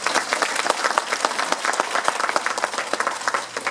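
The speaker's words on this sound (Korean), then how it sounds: "박수 한번 쳐주시죠." Audience applause at a political lecture held in Houston, a crisp and lively run of many individual claps from a medium-sized crowd, fairly close and continuous with no speech.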